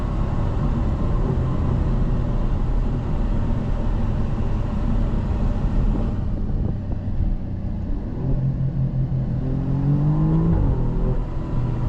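A 2023 Alfa Romeo Giulia Quadrifoglio engine rumbles and accelerates from inside the cabin, the revs climbing and settling again near the end.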